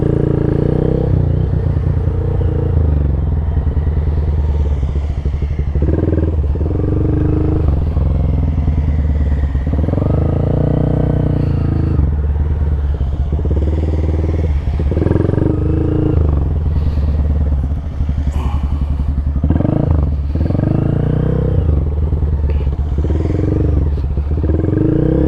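Motorcycles, among them a Honda Grom, ride a tight practice course in reverse direction. Engines rise and fall continuously in a loud, rumbling drone, with throttle blips and brief dips as the bikes slow for turns.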